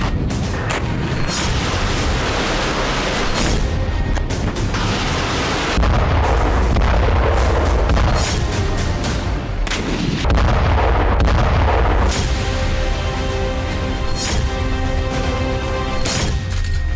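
Artillery shelling in the war in Ukraine, with loud, repeated heavy booms and blasts rolling through the whole stretch, some close and sharp, others rumbling in the distance.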